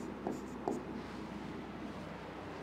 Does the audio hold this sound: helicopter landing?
no